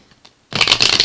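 Quiet for half a second, then a burst of cards riffling and shuffling, a brisk crackling flutter close to the mic for the rest of the clip.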